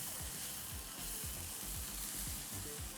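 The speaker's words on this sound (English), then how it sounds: "Gonna add the onion, saute that" Onion sautéing in leftover beef fat in a pan gives a steady close sizzle and crackle, with soft repeated stirring scrapes and no talk.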